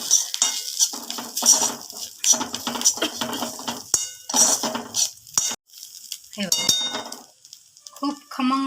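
A spoon clatters and scrapes against a metal pan while green chili thecha is mixed with crushed peanuts, giving a busy run of close metallic clinks and stirring strokes with brief gaps.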